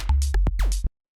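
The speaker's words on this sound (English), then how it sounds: "it just kind of sounds like this sort of soft, weird bass tone." A minimal house groove with a soft synth sine bass tone lacking any pitch envelope, low and rounded under short clicky percussion hits, a brief dense pattern that cuts off abruptly.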